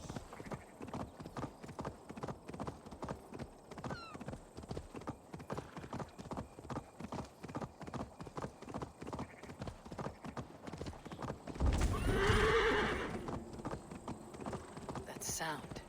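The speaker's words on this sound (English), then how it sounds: "Stop that horse!" A horse gallops in the video game Assassin's Creed Valhalla, a rapid steady drumming of hoofbeats heard close, and a loud whinny near the end, while a voice speaks faintly underneath.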